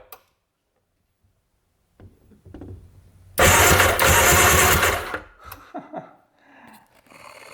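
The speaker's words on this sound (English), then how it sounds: "engine's turning over, we have compression, we have spark" An old jet ski engine, unrun for about twenty years, cranks over loudly for roughly two seconds after a few faint clicks, then cuts off, followed by scattered knocks and handling noises.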